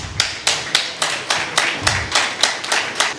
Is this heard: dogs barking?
no